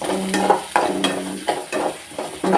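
Onions frying in oil for a dried-fish thokku, with repeated scraping stir strokes over a steady close sizzle, strokes landing roughly every half second.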